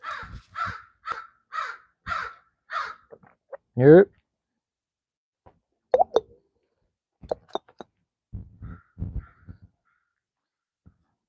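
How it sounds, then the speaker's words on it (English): Crows caw in a quick run of about five loud, harsh calls, followed by scattered clicks, knocks and a brief word from a man outdoors. "The crows, if you ain't know."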